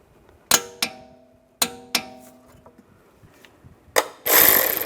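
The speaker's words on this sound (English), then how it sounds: "Now I'm going to torque this bolt to 74 foot-pounds." Ratcheting and clicking from torquing a bolt to 74 foot-pounds while replacing a strut on a 2004-2010 BMW X3, heard as several sharp metallic clicks in separated pairs, followed by a burst of hissing noise at the end.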